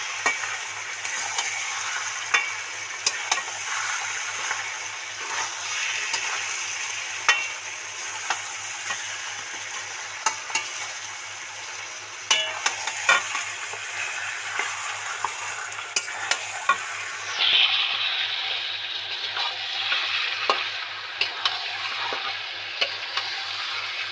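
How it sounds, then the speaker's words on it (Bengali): Spices and chicken are stirred in a hot pan for a Bengali-style chicken and potato curry, with a steady sizzle of frying and repeated scraping of the spoon, close and continuous with no talking. "বন্ধুরা এবার নেড়ে চেড়ে সুন্দর করে মিশিয়ে দেবো মশলাগুলো।"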